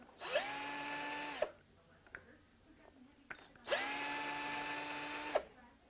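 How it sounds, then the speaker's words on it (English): A cordless drill removing the mounting bolts on a Honda Gold Wing motorcycle, two steady high-pitched whirring runs of about a second each, separated by a pause of faint clicks and handling noise, close up. "I've got a cordless drill here to make this process a little faster."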